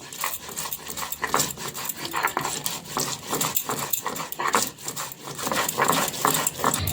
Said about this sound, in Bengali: সর্ষেটা বাটা হয়ে গেছে